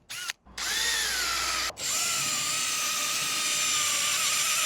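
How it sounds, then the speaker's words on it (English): A power drill whines at high pitch, drilling out rivets from the helper straps of a 2011 BMW convertible top; it starts, cuts out briefly, then runs loud and sustained near the microphone. "now I'm going to screw those rivets out that are holding all those helper straps on"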